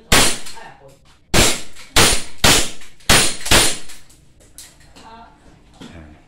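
Semi-automatic M1911 airsoft pistol test-fired, a handful of sharp, loud single shots spaced about half a second to a second apart, each with a brief metallic clack and short ring, followed by quieter handling clicks.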